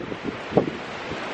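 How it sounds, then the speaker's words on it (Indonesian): Strong wind buffets the microphone in Karlobag, a small coastal town on a day of constant wind. It makes a continuous low rumble with a few brief louder gusts. "tapi begitu hari ini berangin sekali"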